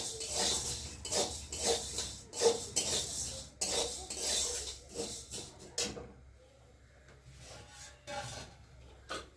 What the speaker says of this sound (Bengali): ডালটাও একটু নেড়ে দেবো